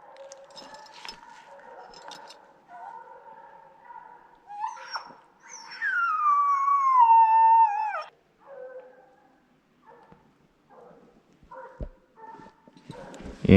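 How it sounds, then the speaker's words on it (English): A hunting hound trailing a bear gives a long, drawn-out baying howl in the middle, with shorter, rougher barks and rustling before and after, heard outdoors at moderate distance. "Marley's barking pretty good now."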